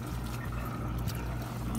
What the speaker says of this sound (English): All right, the water's draining.